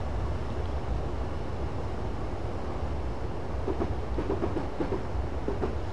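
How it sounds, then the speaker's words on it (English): A Class 156 diesel train coasts along the track in Train Simulator 2015, giving a steady rumbling roll with faint rhythmic clicks of wheels over rail joints. "I've released the brakes and I'm allowing the train to coast"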